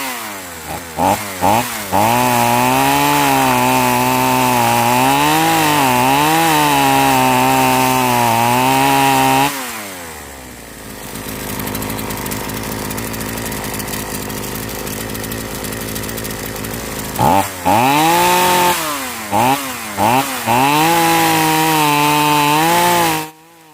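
A chainsaw with a sluggish, underpowered carburetor revs and bogs down as it cuts into wood, with a quieter idle stretch in the middle before cutting resumes loudly and close.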